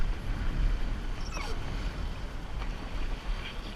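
A 1972 Koralle Jr. sailboat under way on a lake, with a steady wash of water and wind rushing against the hull, fairly loud and continuous, with no talking.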